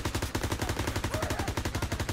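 Rapid, steady machine gun fire from a WWII-era MG in the video game Call of Duty WWII, an unbroken string of evenly spaced shots at moderate loudness with no talking.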